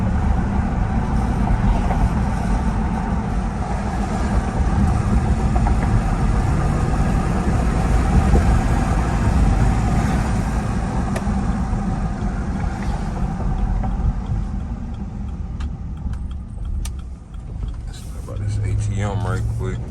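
A 2011 Jeep Grand Cherokee with a 5.7 Hemi V8 being driven, its engine giving a continuous low rumble and road drone from inside the cabin, steady and fairly loud, with a brief change near the end.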